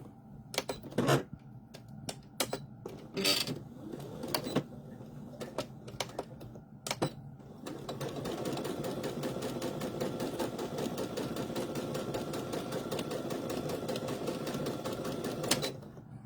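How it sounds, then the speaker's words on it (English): Home sewing machine stitching fabric prairie points, a few separate short bursts of stitching at first, then a steady continuous whirring run of stitches, close and moderately loud. "it helps if you tell your machine what stitch you want to use"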